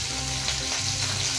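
Onion frying in a pan for a vegetable bharit, heard as a dense, even, close sizzle that holds steady for a moment with no speech over it.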